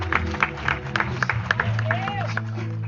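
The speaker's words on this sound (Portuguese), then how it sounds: "Em nome de Jesus, você pode dar uma salva de palmas ao Senhor" Scattered clapping from a church congregation mixed with murmuring voices and a low sustained musical tone, moderately loud and reverberant.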